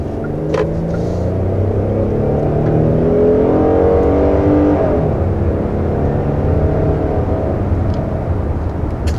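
A 2021 Hyundai Palisade with a 3.8-liter, 291-horsepower V6 accelerates to 60 mph up a steep incline, its engine droning loudly and steadily inside the cabin as the pitch climbs and then eases off, with no talking.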